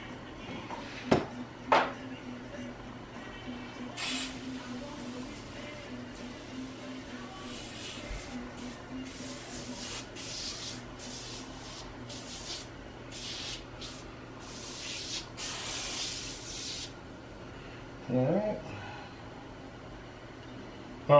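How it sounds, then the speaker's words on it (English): Repeated bursts of hissing aerosol oven-cleaner spray onto a crusty car wheel rim of a 2001 Honda Accord, some short and some longer, close by, with a few clicks and knocks between. "I'm gonna start spraying it down with some oven cleaner."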